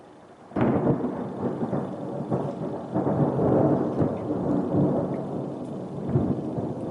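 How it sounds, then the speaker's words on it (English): A fierce thunderstorm with rain over a sailboat at anchor on Chesapeake Bay, starting with a sudden loud thunderclap that rolls into a long, deep rumble over steady rain, close and heavy, no voices. "this is a pretty ferocious little storm."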